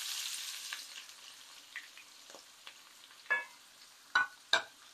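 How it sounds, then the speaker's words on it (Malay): Onions fry in a pan for a Pakistani-style chicken korma, a soft steady sizzle with a few faint stirring clinks and scrapes near the end, quiet and without talk. "kita goreng bawang ya"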